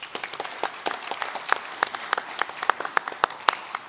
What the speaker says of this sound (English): join me in a round of applause for our panelists